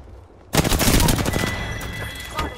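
Rapid bursts of gunfire from the video game Apex Legends erupt loudly after half a second of quiet and keep crackling close by, with a brief voice in the mix.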